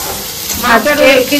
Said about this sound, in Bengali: মায়ের এখানে মশলা কষাচ্ছে